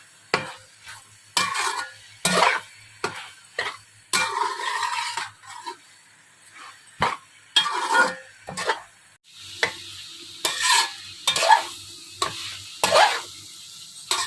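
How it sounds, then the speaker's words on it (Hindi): Beef keema and carrots stir-fried in a pan, with repeated bursts of loud sizzling and scraping as a spatula turns the mix in an irregular rhythm, quiet pauses between strokes. "कीमे की हम अच्छी तरह भुनाई कर लेते हैं, साथ ही गाजर भी सॉफ्ट हो जाएगी हमारी।"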